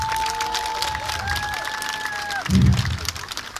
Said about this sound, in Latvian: Paldies, vēl vienreiz skaļi aplausi!